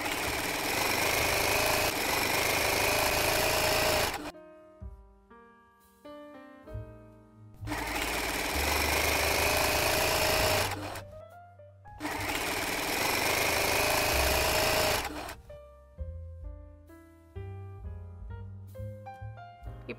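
A sewing machine stitches lace onto a saree-cloth curtain in three long, loud, steady runs of rapid whirring, separated by quieter pauses with soft handling sounds.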